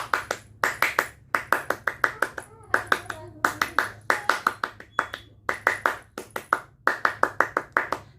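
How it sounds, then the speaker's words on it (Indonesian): Indonesian Scouts perform the rhythmic tepuk pramuka clap, a close, crisp pattern of sharp hand claps in repeated short bursts with brief pauses between groups. "Tepuk pramuka."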